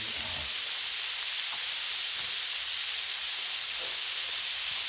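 Chopped onion sizzles on a hot Blackstone griddle as a loud, steady, close hiss that fills the whole stretch without a break.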